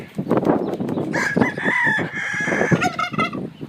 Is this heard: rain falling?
no